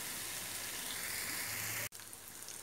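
A steady sizzling hiss of chicken frying in a pan, close and even, broken briefly by a sharp clunk.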